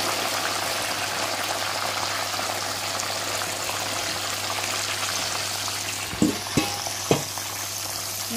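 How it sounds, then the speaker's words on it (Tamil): Long beans frying in hot oil, giving a steady dense sizzle that runs the whole time, close and even, with a few soft knocks near the end. "இப்போ நாங்கள் இதை அரை அரைவாசியாக போட்டு எண்ணெயில் பொரிச்சு எடுத்துக்க போகிறோம்"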